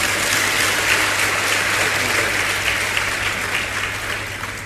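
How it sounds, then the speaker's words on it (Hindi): Large audience at a Hindi spiritual discourse claps together in a full, continuous round of applause, loud and even from start to finish and only slightly fading toward the end. "एक बार अपने लिए ताली बजा ली।"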